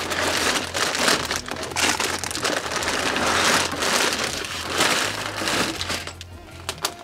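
Plastic bags rustle and crinkle steadily as they are pulled from a LEGO Creator Expert Taj Mahal set box, a close, dense crackling with no talk.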